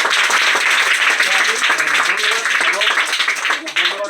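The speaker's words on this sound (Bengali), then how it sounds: "ওনার জন্য জোরে একটি করতালি আশা করছি" Applause from an audience at a Gita recitation and donation gathering in Chittagong, a dense steady clatter of many hands that carries on for the whole stretch, with voices mixed in underneath.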